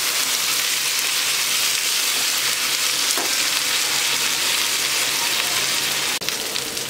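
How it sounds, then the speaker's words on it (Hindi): Cut potatoes frying in a pan toward golden brown, a loud, dense, unbroken sizzle like heavy rain, with a brief scrape near the end and no speech. "अब हम आलू को अच्छे से भूनेंगे गोल्डन ब्राउन होने तक।"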